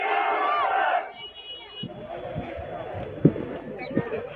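A rally crowd roars back in a loud chant after a Nara-e-Takbir call, then the roar falls away into a murmuring hubbub with scattered thumps and faint calls.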